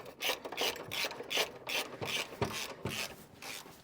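A wrench loosens 13 mm bolts on the exhaust hangers of a VW MK8 GTI, making a quiet rhythmic ratcheting rasp, about a dozen quick strokes close by with no talk.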